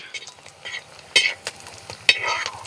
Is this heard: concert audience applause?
no